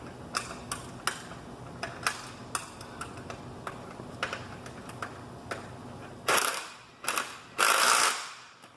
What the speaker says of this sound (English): And then you're going to use your open end wrench again.